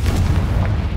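A Confringo spell blast in Hogwarts Legacy, a heavy, booming fiery impact that fills the whole short moment with a dense, loud low rumble.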